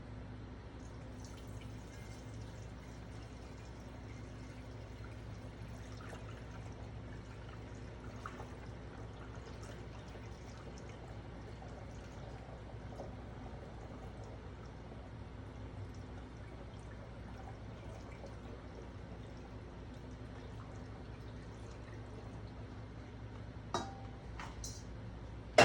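Homemade kombucha is poured into a big pitcher, making a faint, steady stream of liquid with a few small splashes and drips, heard alone at low volume.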